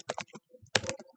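Quick, light keystrokes on a computer keyboard while searching a Canva template, a short close burst of several taps with a brief pause between groups.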